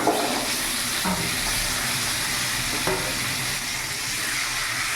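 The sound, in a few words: vegetables frying in a pan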